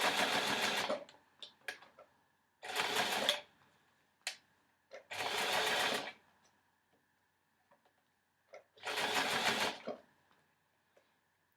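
A sewing machine stitches a sporty dress in four separate close bursts of fast whirring, separated by quiet gaps with small clicks and handling sounds.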